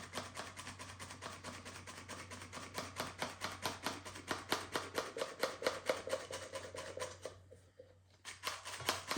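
Flour being sifted into a bowl for bun dough: a steady, rapid run of soft rhythmic shaking taps from a hand sieve, close and fairly quiet, with a brief pause near the end before it resumes.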